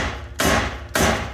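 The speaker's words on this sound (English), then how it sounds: "So I'll just hammer on it and try to break through this rust here." Two sharp, loud hammer strikes ring out close up on a rusted exhaust Y pipe of a 2008 Infiniti FX35, roughly half a second apart, each with a brief metallic decay.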